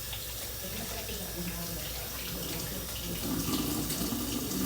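A kitchen tap runs steadily while food is rinsed under it, a continuous close hiss that grows fuller and louder near the end, with no one speaking.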